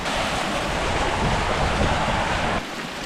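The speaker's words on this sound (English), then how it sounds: "A little waterfall down the rocks." A small waterfall runs down rocks at the foot of crumbling cliffs in remote New Zealand wilderness, a continuous close rushing of water that suddenly drops in level near the end.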